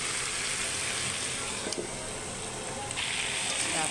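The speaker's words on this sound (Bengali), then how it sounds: "আলু দিয়ে মাছের ডিম রান্না করবো" Potatoes and fish roe frying in a pan with turmeric and salt, giving a soft, constant sizzle and hiss, close but fairly quiet, with a few faint clinks and stirring sounds.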